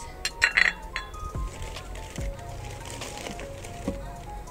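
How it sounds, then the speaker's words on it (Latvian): Porcelain cake plates and saucers clink and chink against each other while being unpacked, with several bright, sharp knocks close by in an irregular rhythm and some soft handling noise between them. "Jā, un redziet, kūkušķīvji, apakštases"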